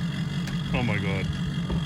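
A 4.6-litre Mercury V8 outboard engine on a small boat idles close by in a steady low drone, with a short vocal exclamation rising over it midway.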